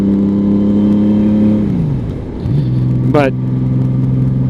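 The engine of a 1999 Honda Valkyrie motorcycle hums steadily at highway speed with wind roar, its pitch dropping through a gear change before settling again. A rider briefly speaks over it.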